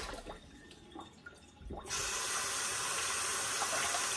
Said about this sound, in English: Not a bad idea to rinse your ginger.